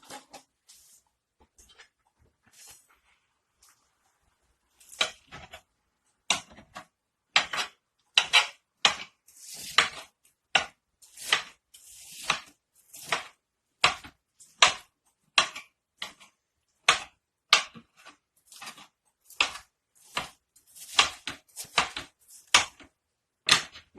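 Leftover russet au gratin potatoes are quickly chopped, close up: a few soft knocks, then a rapid, irregular run of sharp knife strikes on a board that keeps going to the end.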